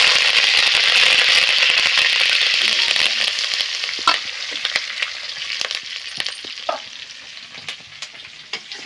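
Ajwain and curry leaves frying in hot oil for kadhi, a loud crackling sizzle that gradually settles into softer spitting and scattered pops, close by with no talk.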